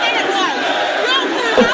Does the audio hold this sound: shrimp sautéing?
no